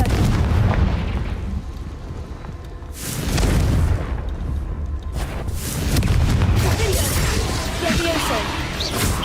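Confringo spell explosions in the video game Hogwarts Legacy come as several heavy booming blasts spread through the scene, mixed with other combat noise and a speaking voice.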